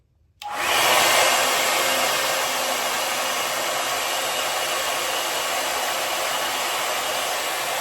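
A Wavytalk Air Sculpt 5-in-1 hair dryer switches on and blows a steady, loud rush of air, holding a constant whooshing tone from start to finish with no talking.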